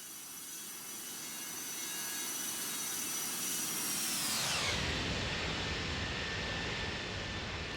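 Simulated Airbus A319-112 jet airliner in X-Plane 12 roars past in a flyby, a loud steady jet whine that builds and then drops sharply in pitch as it passes, with no talking.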